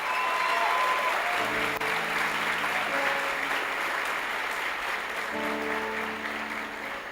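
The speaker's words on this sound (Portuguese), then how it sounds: "Aplauda Jesus o mais alto que você puder." Loud, sustained applause fills a church conference hall as a congregation claps for Jesus, with dense continuous clapping throughout and a low musical drone underneath.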